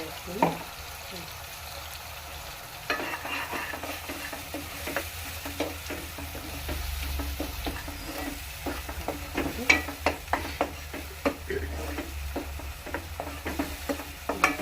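Onion paste frying in a pan for a garelu pulusu, a low steady sizzle broken by frequent stirring clicks and scrapes of a utensil, close up with no talk.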